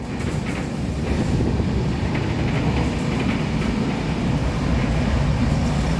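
Steady rumble of a moving Konkan Railway passenger train, heard from on board, with continuous rolling noise and wind buffeting; no talking.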